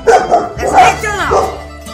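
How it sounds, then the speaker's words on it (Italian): A loose dog in a street barks and yelps a few times up close, mixed with people talking nearby. "Eccolo qua, il cane libero."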